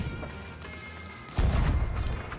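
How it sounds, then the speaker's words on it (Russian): A pistol shot in Sea of Thieves, a single loud, sharp report with a booming low tail, following a stretch of quieter in-game ambience. "вот пистоль. Он, во-первых, стреляет в точку."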